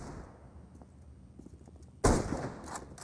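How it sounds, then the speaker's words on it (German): Single sharp gunshot during a professional Counter-Strike esports match, a sudden loud crack that cuts in after a quiet stretch of faint game ambience and trails off with a brief echo. "Das ist kein leichter Schuss."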